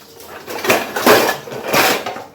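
Plates and metal dishes clatter close by in a household kitchen: three loud bursts of ringing clanks and scrapes, each fading before the next.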